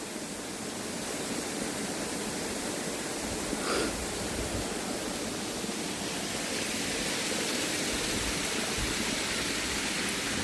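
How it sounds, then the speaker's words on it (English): Waterfall at Rainbow Springs State Park in Dunnellon, Florida, heard from the bottom of its drop: a continuous broad roar of falling water, steady and enveloping, with no voices. "it's a gorgeous waterfall"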